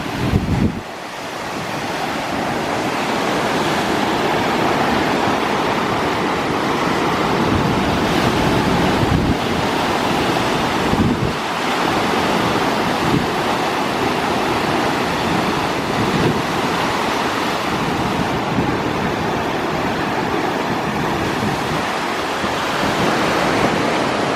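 Ocean surf at a Cancun beach resort rolls in as a continuous loud wash of waves with heavy wind buffeting the microphone and no voices.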